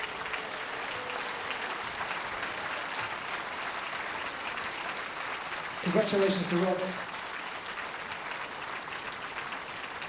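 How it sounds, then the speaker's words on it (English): Sustained audience applause for two players at the World Indoor Bowls Championships, a steady wash of clapping across the whole span while a commentator briefly speaks over it midway. "Give both players a round of applause."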